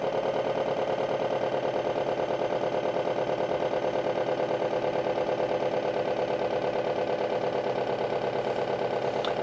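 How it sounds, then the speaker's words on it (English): A car engine idles steadily while warming up, a smooth, even mid-pitched drone with a fast regular pulse that holds constant throughout. "Then the engine's warming up, and the idle's coming down."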